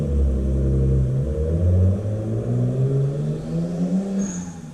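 A modified Nissan Skyline engine revs loudly nearby, pitch rising and falling through several gear-like sweeps as it passes, with a faint hiss near the end.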